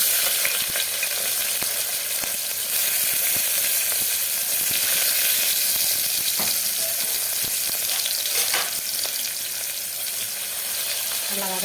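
Onions with cinnamon, bay leaf and cloves sauté in hot oil for a Tamil vegetable rice, giving a continuous close crackling sizzle with occasional stirring scrapes and no talk.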